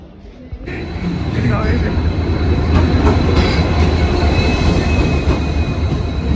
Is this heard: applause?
no